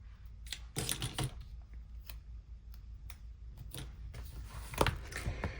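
Paper being trimmed for a planner dashboard, a few faint snips and crisp paper rustles spaced irregularly over a quiet room.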